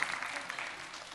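Brief applause from a church youth group audience, a soft, continuous patter of many hands heard faintly for about a second.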